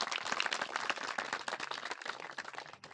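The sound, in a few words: audience applauding at village cricket tournament event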